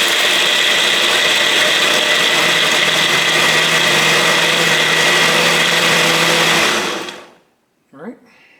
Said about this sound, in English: turn on the blender, and you could either do pulse for the ice,